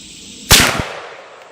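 A single sharp gunshot from a Ruger M77 Mark II rifle in .300 Win Mag, a loud close crack with a short echoing tail fading over about a second.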